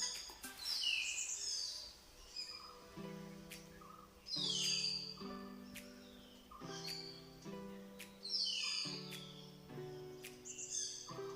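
Birds in a tea plantation in Munnar call in a repeating pattern: bright chirps answered by lower whistled notes. The calls recur every couple of seconds, quiet and somewhat distant.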